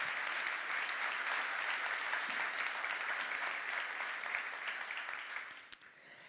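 Audience at a farming innovation talk breaks into applause, a steady, moderately distant patter of many hands that holds for several seconds before tapering off near the end.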